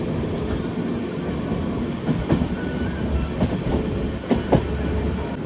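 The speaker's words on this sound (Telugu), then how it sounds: "ఆ గూడ్స్ ఏమో కాకినాడ సైడ్ నుంచి వస్తుంది" A goods train rolls past on the Kakinada line near Samarlakota, with a steady low rumble and rhythmic clickety-clack of wheels over rail joints, fairly close.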